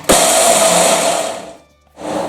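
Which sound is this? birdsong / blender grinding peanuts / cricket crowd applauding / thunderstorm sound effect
blender grinding peanuts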